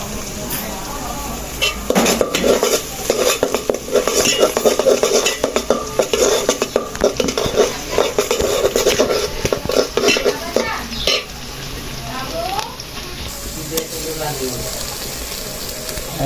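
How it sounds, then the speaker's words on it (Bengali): Onions frying in oil in a pan while being stirred, with busy clinks and scrapes of a metal utensil against the pan over a low sizzle, pausing near the end. "তেল পেঁয়াজ, এখানে তেল দিয়ে দিছে, তেলের সাথে পেঁয়াজ দিয়ে দিছে"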